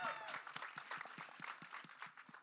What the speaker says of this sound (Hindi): सनी बाजी के लिए एक बार जोरदार ताली होनी चाहिए